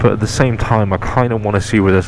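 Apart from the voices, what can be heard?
None of the usual background noises is heard.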